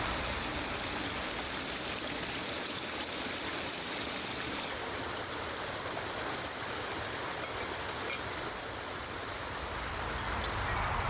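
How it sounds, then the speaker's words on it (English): Water pours into the tank of a moka pot outdoors, a steady broadband splashing and trickling that runs unbroken and fairly loud for the whole stretch, with no voices over it. "I go ahead and I fill the water tank with water up until the appropriate amount"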